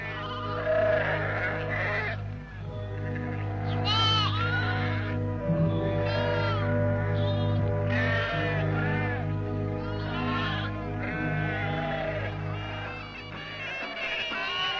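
Sheep bleat again and again, loud and close, over a steady droning musical backdrop.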